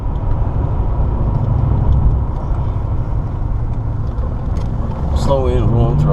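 A Lincoln Mark VII with about 240,000 miles cruises along, giving a steady, close engine and road rumble throughout. Tire and wind noise sit underneath, and near the end a brief higher tonal sweep rises over the drone.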